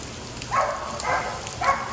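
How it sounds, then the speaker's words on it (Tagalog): A dense, steady hiss of rain patters continuously, with a few louder swells of splashing over the constant downpour. "Lakas ng ulan"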